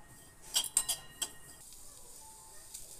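Fenugreek seeds are dry-roasted in a pan for pickle. A utensil stirs them, giving a quick cluster of sharp metallic clinks and scrapes up close, followed by a faint background hiss.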